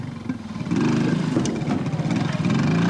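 A four-stroke trials motorcycle at a 1981 outdoor trials event, its exhaust giving a steady, mid-distance putter that rises slightly in level and keeps a pulsing, throbbing rhythm throughout.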